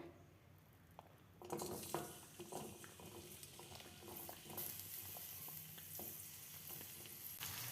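Chopped onion dropped into hot oil over a low flame, a soft sizzle rising and settling with stirring scrapes and small bursts, quiet and close, no talking.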